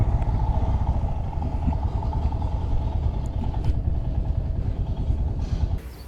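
A motorcycle due for its 25,000 km service rumbles close by at low speed, engine chugging steadily before cutting off near the end.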